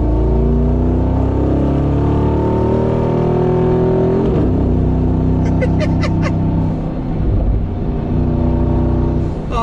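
The engine of a Mansory G63 Star Trooper pickup in Sport Plus mode roars close by, building revs steadily with rising harmonic tones, then surging harder as it accelerates, loud and continuous with no talk.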